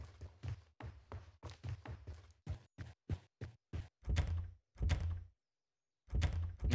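A door in the game Ether One rattled and tried with a key, repeated close wooden thunks and knocks in quick bursts, then a few heavier thuds separated by short silences.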